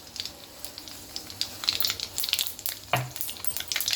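Mustard seeds fry in hot groundnut oil, crackling and popping in quick irregular bursts over a soft sizzle, close up and with no talking.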